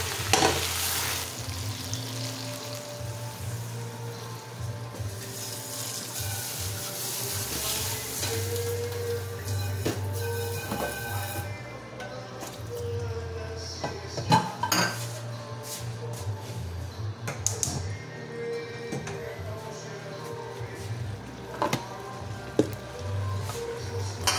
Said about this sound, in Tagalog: Lagyan natin ang gulay na.